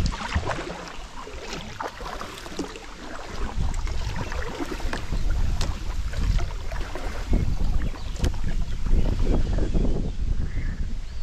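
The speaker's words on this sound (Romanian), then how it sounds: "Bate vântul destul de tare." Strong wind gusts across open water on a kayak trip in the Danube Delta near Sulina, a steady loud rushing buffet with rough microphone noise and faint splashing, no voices.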